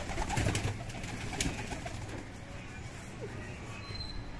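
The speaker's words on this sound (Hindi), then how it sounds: "देखे कबूतर कैसे उड़ते हुए हैं पानी के चक्र में," Soft flapping of pigeon wings as pigeons fly to bathe, with faint cooing over a steady low outdoor rumble, running water and light background noise throughout, in Karachi.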